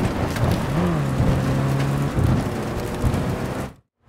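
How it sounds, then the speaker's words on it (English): Heavy rainstorm in the Cyberpunk 2077 video game: a dense, steady hiss of pouring rain with a low sustained tone beneath it, holding loud for most of the stretch before cutting abruptly to silence near the end. "That is one hell of a storm!"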